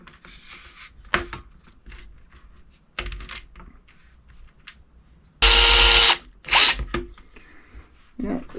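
A power drill runs screws into model aircraft landing gear in short whirring bursts, the longest near the end, between quieter clicks and handling noises of small parts.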